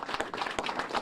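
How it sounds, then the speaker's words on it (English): A short burst of applause at a press conference in Elizabeth City, North Carolina, a brief, fairly soft patter of clapping hands from the gathered crowd. "Let's give him a round of applause."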